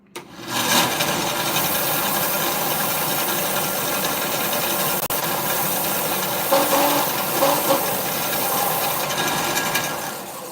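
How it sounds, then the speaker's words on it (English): A steady, loud abrasive whir of a power sander on wood, continuous and close, with slight rasping changes in pressure. "right now, that's my sander"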